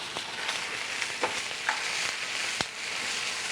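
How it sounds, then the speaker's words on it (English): A seasoned galette cooks in butter in a non-stick skillet over moderately low heat, giving a steady soft sizzle with a few sharp pops and crackles scattered through, with no talking. "The galette is seasoned and cooked in butter."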